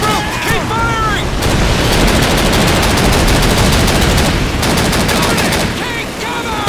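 Sustained .30 cal machine gun fire in Call of Duty 2, a WWII shooter, with rapid dense bursts running almost the whole time and shouted voices over the start and end.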